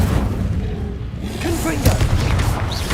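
An Incendio fire spell goes off in the video game Hogwarts Legacy, a loud, booming burst with crackling, roaring texture and sharp bright flickers, all layered over busy game noise.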